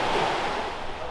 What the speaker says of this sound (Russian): И море. Рядом всем море.